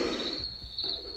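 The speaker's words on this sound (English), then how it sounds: "little bit of crickets" Crickets chirping from a sleep sound machine, a steady high-pitched insect trill running continuously over a soft wash of background noise, moderately quiet and close.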